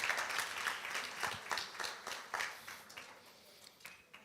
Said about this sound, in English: Let's clap for her, please, as she comes through on stage.